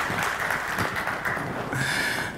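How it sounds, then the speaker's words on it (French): Brief burst of audience applause at a security conference presentation, steady mixed clapping from a seated crowd, fairly loud and continuous through the short stretch. "Un tour d'applaudissements pour l'équipe régie."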